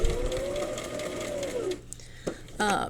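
A sewing machine stitches a patch with interfacing in short runs, a whirring motor rising and stopping, followed by brief clicks and a second quick burst.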